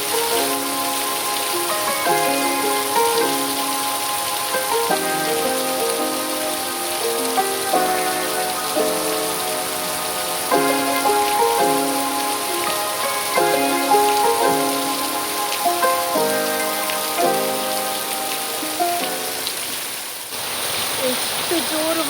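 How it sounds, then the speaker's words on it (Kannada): Heavy rain pours steadily around a house, a dense, loud hiss of drops hitting surfaces that continues without a break, with melodic music playing over it. "ಎಷ್ಟು ಜೋರು ಮಳೆ ಬರ್ತಾ ಉಂಟು ನೋಡಿ"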